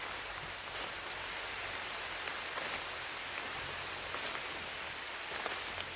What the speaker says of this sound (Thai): พี่น้องฟังเสียงฝน